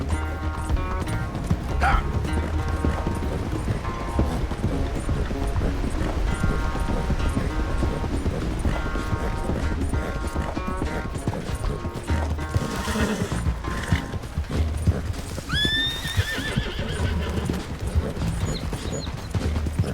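A horse gallops through a race in Red Dead Redemption 2, rapid hoofbeats pounding continuously alongside sharp whinnies and snorts over a bed of game music, with occasional speech.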